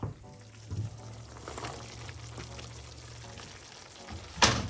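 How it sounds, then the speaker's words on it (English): Chopped carrots tipped into a hot pot seasoned with cumin, giving a soft continuous sizzle with a few bumps and stirring noises and a sharp clatter near the end. "So now I'm gonna put in some carrots."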